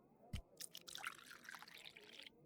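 Whiskey poured from a bottle into a glass, a single short close trickle lasting about two seconds after a small clink, faint and alone.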